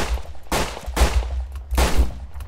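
A hammerless revolver fires in a Wild West shooting game, three loud close gunshots at steady half-second intervals, each a sharp crack with a booming tail.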